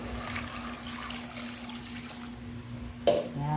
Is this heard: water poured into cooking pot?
yes